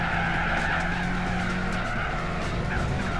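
Suzuki concept race car in Gran Turismo 4 braking hard with a steady, loud skid and tire squeal over a droning engine, continuous throughout.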